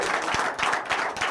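Brief burst of audience clapping from fans of The Sopranos during a late-night talk show taping, a dense wash of many hands close and steady for just over a second.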